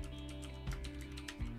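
Quiet computer keyboard typing, a quick run of soft clicks and taps while a command is entered, set under steady tonal background music.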